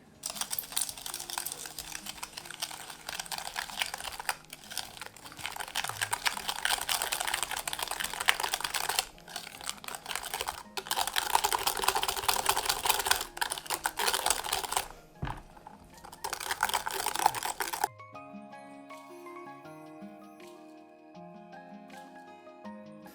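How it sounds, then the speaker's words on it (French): Two eggs whisked in a bowl for a tarte tropézienne pastry cream make a dense, rapid clicking that runs steadily and close for most of the time, with brief pauses, before giving way to music. "Et je viens mélanger à l'aide de mon fouet."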